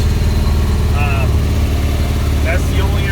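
A wood gasifier-powered vehicle's engine idles in traffic, a loud, steady low rumble with an even pulsing rhythm throughout, broken by a few faint high chirps.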